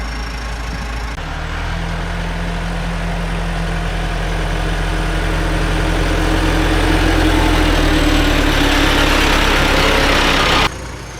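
A 6150 mower's engine runs steadily after a service, a continuous low rumble that swells slightly in loudness before cutting off near the end, with no talking.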